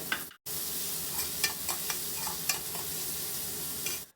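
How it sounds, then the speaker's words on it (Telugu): Sliced onions frying in a pan with salt and a pinch of turmeric for a gongura dried prawn curry, giving a continuous close sizzle with scattered spoon scrapes and taps, starting after a brief silent gap. "ఈ ఆనియన్స్ని మూత పెట్టి బాగా రోస్ట్ అయ్యే వరకు ఫ్రై చేసుకుందాము"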